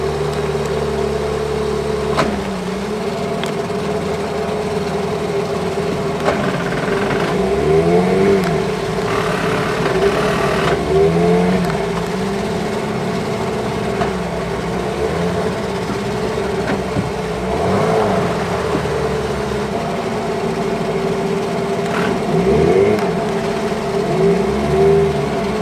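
A boat's engine runs steadily, loud and close, with a continuous droning hum as the revs rise and fall in repeated swells through the whole stretch.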